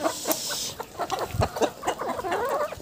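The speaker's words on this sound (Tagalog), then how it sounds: "Chicken layer." Layer chickens on a farm clucking around feeding time, a cluster of short, close clucks and murmuring calls from several hens overlapping continuously at moderate volume.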